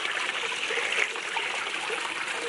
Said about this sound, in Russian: Сейчас попробую воду из этого родника.